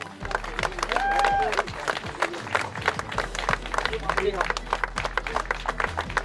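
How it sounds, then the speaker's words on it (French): An audience claps at a trophy ceremony for the tenth Challenge Canassiers horse event in Saumur: dense, sustained applause with a few whistles, while people talk over it. "on peut les applaudir, on peut applaudir Pascal."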